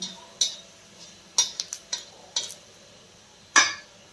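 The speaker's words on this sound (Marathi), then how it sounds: "परत थोडंसं तेल टाकायचं आणि याच्यामध्ये आपल्याला हे दगडी फूल जे आहे ते टाकून भाजून घ्यायचं" Stone flower spice roasting in a little oil in a pan, heard as a handful of scattered sharp spoon scrapes and clinks with a faint sizzle between them, close and moderately loud.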